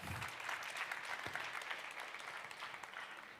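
Audience applause at a marketing communications conference session, steady broadband clapping from a large seated crowd lasting the whole stretch with no voices over it.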